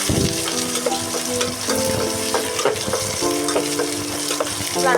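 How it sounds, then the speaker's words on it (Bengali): Onions and egg frying in a pan, a steady close sizzle broken by frequent scraping and clinking of a spatula stirring against the pan. "চারা দিয়ে সুন্দর করে ভেজে নিচ্ছি পেঁয়াজটা একটু মজে মজে আসছে"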